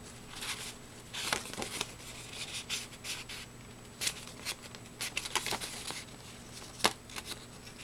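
Scissors cut through card paper while a greeting card is being crafted, producing quiet, irregular crisp snips and rustles in short bursts, with soft handling noises between them.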